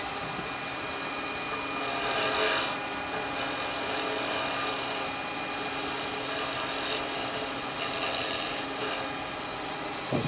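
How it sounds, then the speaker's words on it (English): A square carbide woodturning tool shaves down a wooden ring box on the lathe, giving a steady close scraping hiss with a brief louder swell partway through and no talking. "I'm going to use a carbide to take that down."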